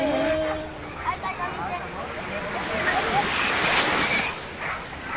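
Sea waves washing ashore at Sembawang Park in the evening, a steady surf wash with wind buffeting the microphone; a voice speaks briefly near the start.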